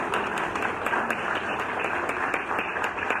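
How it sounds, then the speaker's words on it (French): An audience claps during a political address by a new provisional president, a dense, even round of applause with scattered sharp hand claps standing out throughout. "Ils ont tout mérité applaudissement pour faire play."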